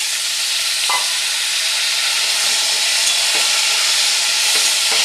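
Vegetable stems fried over low to medium heat in a pan with pumpkin, a small potato and pointed gourd, giving a steady loud sizzle with a few soft scrapes of stirring and no voices.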